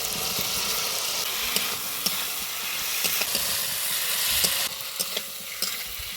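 Jackfruit and fried potato stir-fried in spice paste in a pan for a salty-water tangra fish curry, giving a steady close sizzle and hiss with scattered scraping stirs throughout, no voices.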